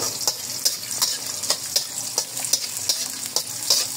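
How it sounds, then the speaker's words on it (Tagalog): Ginger sizzles steadily in hot oil in a pan, sautéed for a beef pata dish. A spatula stirs it, giving soft, regular scraping ticks about every half second over the continuous close frying hiss. "Okay, gisa na natin itong luya natin."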